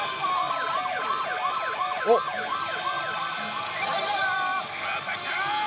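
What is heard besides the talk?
pachislot machine police siren effect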